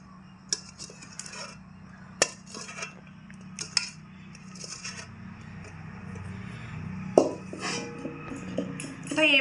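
A metal spatula scrapes and presses hot peanut brittle across an oiled plate, giving intermittent metallic clinks and rasping strokes over a low background hum.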